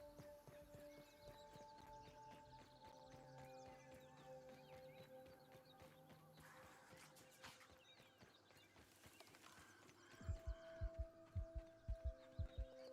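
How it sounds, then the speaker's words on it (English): A heartbeat sound effect near a spider in a video game, low thumping pulses in a quick run near the end, rising out of a busy bed of game music and ambience. "Never what you want to hear is the heartbeat sound when you're near a spider."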